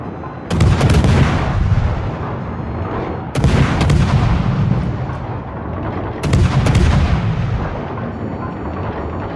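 Artillery in a video game firing HE shells: three heavy booming shots spaced a few seconds apart, each with a long rumbling tail, loud and close with no talk.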